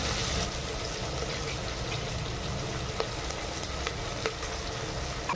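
A lump of asafoetida sizzles in hot oil for a dal rice dish, a steady broadband frying hiss with a few faint clicks and pops, continuous and close throughout.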